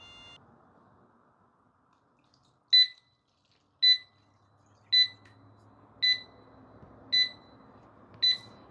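A Mocreo SW2 water leak sensor's built-in buzzer alarm sounds six loud, sharp, evenly spaced beeps about a second apart over faint room noise.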